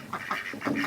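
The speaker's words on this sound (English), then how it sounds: "Let me shoo the ducks away. They're probably making too much noise." Ducks quack in a yard, several close bursts in quick succession, fairly loud and with no voices over them.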